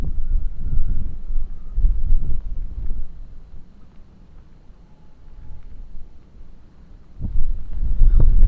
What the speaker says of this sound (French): j'ai l'impression d'entendre le vent chanter